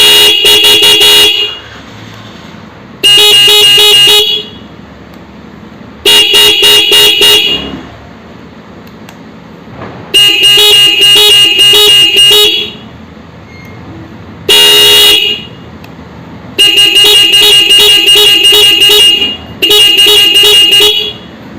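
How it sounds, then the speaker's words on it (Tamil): A vehicle horn wired through a melody maker blasts loud, bright electronic tune patterns in repeated bursts of about two seconds, separated by short pauses, each burst cycling through different tones. "இதுதான் வந்து ஒரு மெலோடி மேக்கர் வச்சு நம்ம ஹார்ன் வந்து டிஃப்ரெண்ட் டோனில் அடிக்க வைக்கிற மெத்தட்"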